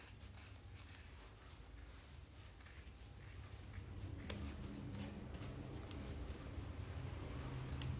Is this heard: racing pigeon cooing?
no